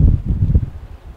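Gusty wind buffets an outdoor microphone among rocks on the Salem shore, a loud, continuous low rumble that surges and dips over a moment, with no voices.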